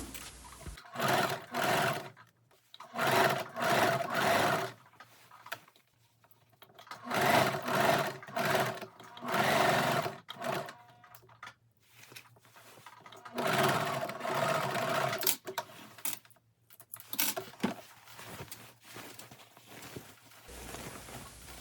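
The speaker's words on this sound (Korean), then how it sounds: "박음질했던 부분을 그대로 선분을 따라서 박음질을 해줍니다." A sewing machine runs in repeated bursts of a few seconds each, with short pauses between them, as it stitches along an earlier seam on the collar of a padded spring jacket, close and clear with no talk.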